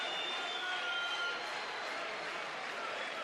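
A steady roar from the arena crowd at a men's under-58 kg taekwondo bronze medal match at the Baku 2015 European Games, continuous and diffuse with no pauses, with a commentator speaking over it.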